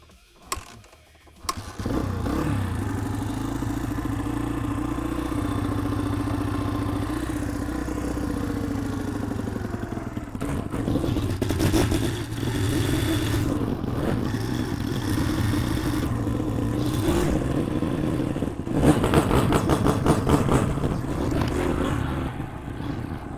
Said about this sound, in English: you can hear it, it's just idling perfect.